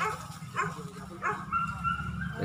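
Hunting dogs out after wild boar bay at a bear, giving a few sharp yelping barks and whimpers in quick bursts at moderate distance, with no clear talk over them.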